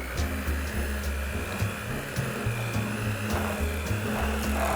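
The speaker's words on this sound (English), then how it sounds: "So to this, we're gonna add granulated sugar and vanilla and continue whipping it until it's nice and fluffy" Electric mixer whipping vegan butter with granulated sugar and vanilla, a steady close motor whir with a low rhythmic churning that pulses through the whole stretch, no voices.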